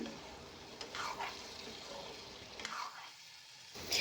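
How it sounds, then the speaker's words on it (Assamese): Faint, steady frying hiss of vegetables and soya chunks with occasional soft stirring scrapes in a pan; the sizzle briefly thins before swelling again at the end. "এইখিনি আকৌ কিছু সময়ৰ কাৰণে মই ভাজি ল'ম"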